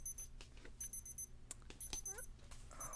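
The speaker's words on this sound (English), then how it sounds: "I'm going to turn my clock off here. It just went off" A digital alarm clock goes off with repeated bursts of high, fast beeps, fairly faint against a steady background hum, with a few short chirps in between.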